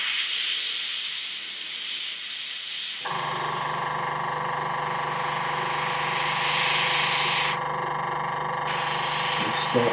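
An airbrush sprays paint onto a model Spitfire kit, giving a steady, close airy hiss that starts a few seconds in and runs continuously. Earlier there is a fainter hiss, and a voice can be heard.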